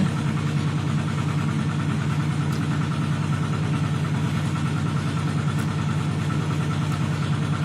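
A motorized water pump drains a fish pond behind a house, giving a steady, even engine-like drone that holds unchanged for the whole stretch with no talking.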